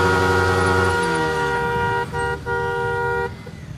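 A vehicle ridden toward a petrol pump on the road sounds loud sustained horn honks with brief breaks, over steady traffic and engine noise.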